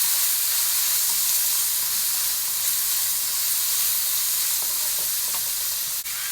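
A shrimp filling with jicama and bean sprouts sizzles and hisses steadily in a hot pan as it is stirred, a dense bright frying crackle held close and loud throughout, with faint scraping and no talk.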